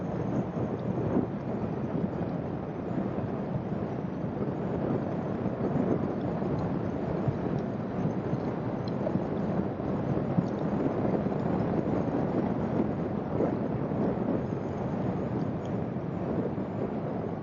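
A continuous roaring rumble of a Kawasaki ZZR1100 motorcycle engine accelerating on a straight in the rain, with rushing wind noise, holds steady throughout, loud and close, with no speech.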